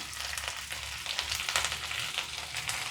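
Eggplant and curry leaves fry in a pan, giving a steady, close sizzle with crackling bursts throughout and no voices.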